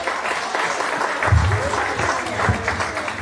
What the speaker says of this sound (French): On vous applaudit, s'il vous plaît, mesdames.